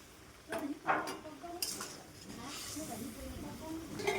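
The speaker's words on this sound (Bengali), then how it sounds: "এখন আমি এই যে ভেজে রাখা মাছগুলো দিয়ে দেব" Pieces of fried fish go into a simmering curry gravy, giving clattering pot and utensil knocks followed by a soft bubbling hiss. A voice speaks faintly in the background.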